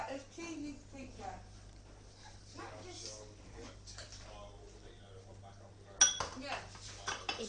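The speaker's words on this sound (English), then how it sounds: "Step one, get a bowl. Step two, put some in, put your ingredients in." Bowl and utensils clinking softly while ingredients are mixed indoors, faint scattered taps under talking voices, with one sharp louder clink near the end.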